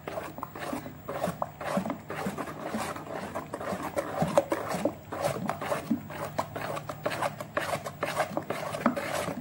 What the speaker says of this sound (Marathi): 2-3 मिनिट तरी फेटून घ्यायचं याला